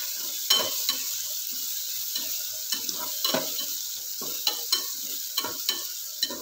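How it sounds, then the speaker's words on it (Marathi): Onion and tomato with ground coriander fry in a pan under a steady sizzle, while a spoon stirs and scrapes against the pan in irregular repeated strokes close by. "इथे आपल्याला टमाटा आणि कांदा छान मऊ होईपर्यंत परतून घ्यायचा आहे।"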